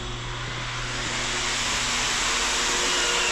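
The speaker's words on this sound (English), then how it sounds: "I'll show you our wheel polisher machine. Chris is over here running that right now." A wheel polisher machine working on loose truck wheels, giving a steady, broad whirring roar that builds slightly louder over the few seconds without pause.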